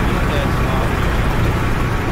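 A V3S truck engine idles in a video game after being left running, a continuous close rumble with a noisy wash on top, while voices seem to speak faintly over it.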